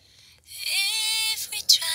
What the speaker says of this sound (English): The high pass filter is cutting all the low frequencies